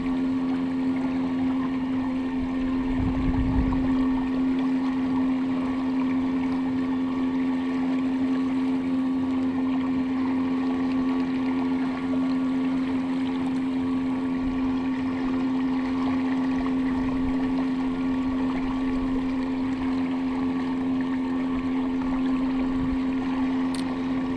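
A Bixpy electric motor drives a FeelFree Moken 12.5 V2 kayak with a DIY pod mount, running downwind at speed 10: a steady, continuous electric whine with water noise, constant level throughout, no talking.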